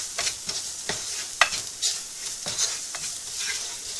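Spoon stirring red chili powder, coriander powder and garam masala frying in a pan, a steady hiss with soft scraping strokes throughout.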